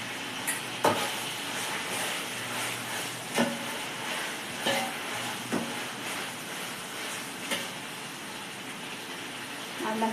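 Green chillies and ginger paste fry in a pan with a steady broadband sizzle, broken by several sharp clinks and scrapes of a stirring utensil, close and moderately loud, with no talking.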